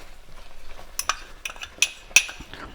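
A spoon scrapes and clinks against a pan as cumin, coriander and red chili powder are stirred into paneer butter masala, with a few sharp metallic taps between quieter scraping.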